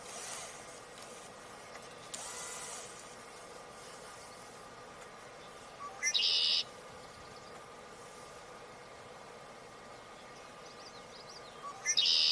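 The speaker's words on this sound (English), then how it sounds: "Just heard a common yellowthroat" A common yellowthroat calls twice, a bright, high-pitched burst of song about six seconds after the first, faint against a steady outdoor hiss.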